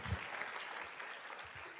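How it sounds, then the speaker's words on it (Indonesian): Audience applause at a motivational seminar, a brief dense patter of clapping that holds steady and fairly loud for under two seconds. "Tepuk tangan buat TNC dan One Vision"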